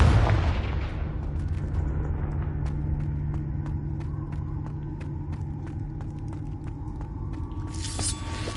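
A Confringo fire spell exploding in Hogwarts Legacy: a heavy boom that decays into a long, low rumble, with a crackling burst near the end.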